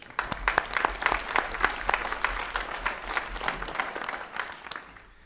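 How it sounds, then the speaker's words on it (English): An audience at an economic development summit applauds the executive director, a sustained round of many hands with distinct sharp claps, fading out near the end. "let's give her a round of applause for this"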